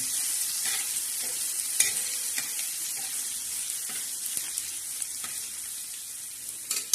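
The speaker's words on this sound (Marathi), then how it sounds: "आता तव्यावर प्रथम आपण काय टाकणार आहोत लसूण आणि जिरे हे ठेसून घेतलेले त्याची छान असा तडका देतोय आपण त्याला" Crushed garlic and cumin sizzle in hot oil on a tawa for a tadka, a soft, steady crackling hiss broken by occasional scrapes and taps of a spatula stirring, with no voices.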